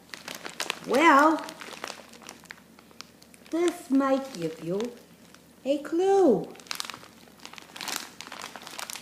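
A plastic zipper bag crinkles in short bursts between spoken phrases, close up and fairly loud.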